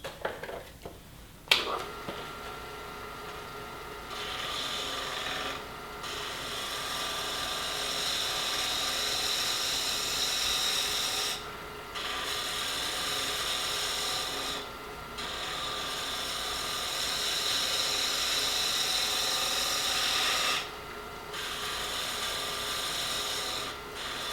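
A wood lathe spins continuously as a chisel scrapes and cuts, shaping the handle of a wooden scoop, giving a steady rasping hiss that briefly drops out several times.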